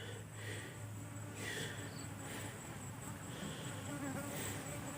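Dwarf honey bees swarm around their large hanging nest near water, making a steady, dense buzz that holds throughout, close and continuous with no talk.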